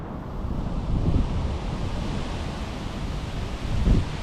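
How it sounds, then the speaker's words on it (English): Strong wind gusting during a severe thunderstorm with hail, heard outdoors by a swimming pool: a loud, continuous low roar with buffeting microphone rumble that swells in two gusts. "Here comes the wind."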